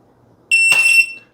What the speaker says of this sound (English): we're starting ourselves off by working on reacting to the beep quickly.